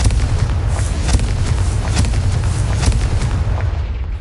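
Confringo fire-blast spell from Hogwarts Legacy, heard as a dense, continuous rumble of booming blasts with sharp bursts landing roughly every half second, loud and close with no talk.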